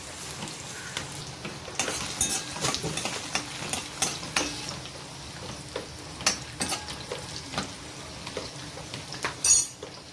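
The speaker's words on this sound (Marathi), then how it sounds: "गॅसवर कढाई ठेवली आहे मी त्यात एक ते दीड चमचा तेल टाकते त्याच्यात लसूण टाकायचे" Finely chopped garlic fries in one to one and a half spoons of oil in a kadai on a gas stove, a soft steady sizzle broken by scraping stirs and occasional spoon clinks.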